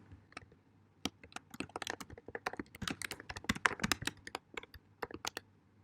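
Rapid keyboard typing on a computer, a quick run of sharp, irregular key clicks bunched in bursts with brief pauses, close and fairly quiet, with no talking.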